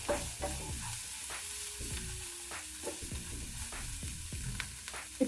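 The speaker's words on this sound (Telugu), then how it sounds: "ఇవి పచ్చి వాసన పోయే వరకు ఫ్రై చేసుకోవాలి" Chopped onion and curry leaves fry in hot oil with a steady sizzle, broken by repeated scraping and clinking of a spoon stirring the pan, close and moderately quiet, with no talking.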